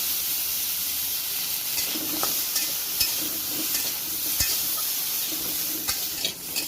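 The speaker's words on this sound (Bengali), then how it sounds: "এগুলো হালকা করে একটু ভেজে নিচ্ছে" Small cut potatoes, green chili and bay leaf frying in oil in a wok, giving a steady close hiss and sizzle with a few light stirring scrapes and taps, and no talking.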